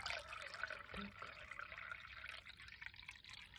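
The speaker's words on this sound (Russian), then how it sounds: "Вливаем еще воды." Water poured from a container into a tabletop waterfall fountain during setup, a soft steady trickle and splash running close by, with a brief spoken word partway through.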